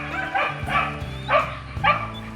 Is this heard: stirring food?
no